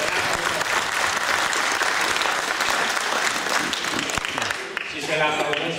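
Sustained, loud audience applause at a 45th-anniversary class reunion gathering, dense continuous clapping from a large crowd that thins slightly near the end.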